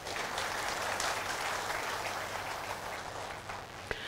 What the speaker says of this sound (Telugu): చప్పట్లు తట్టండి అయ్యా.